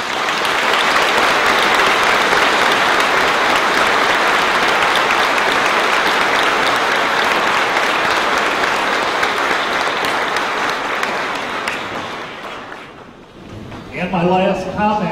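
A school graduation audience gives a long, loud round of applause for the graduates, steady dense clapping that fades out near the end as a speaker starts talking again.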